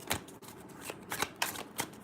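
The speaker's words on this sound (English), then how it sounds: "Three more shuffles." Cards are shuffled in several quick riffling bursts, crisp and close, with brief gaps between them.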